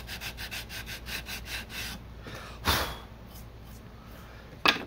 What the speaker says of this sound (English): I'll just get my 80 grit and kind of trim the plastic to match the sides here if it's sticking out